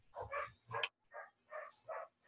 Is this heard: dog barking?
yes